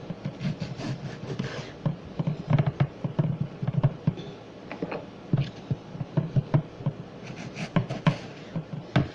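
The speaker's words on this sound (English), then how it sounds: "So I'm going to go ahead and get this cut up." A knife chops an onion on a cutting board while preparing Italian pasta salad, giving close, uneven taps and scraping strokes in a steady run with no talking.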